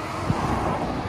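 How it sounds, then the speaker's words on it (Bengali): Steady wind buffets the microphone in a continuous low rush beside the Damodar River, with no voices. "সুন্দর ঠান্ডা হাওয়া দিচ্ছে"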